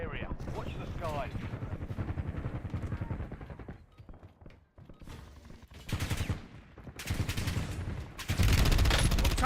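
Video game gunfire rattles in rapid automatic strings, fading into a quieter gap before heavy bursts return loud and dense toward the end.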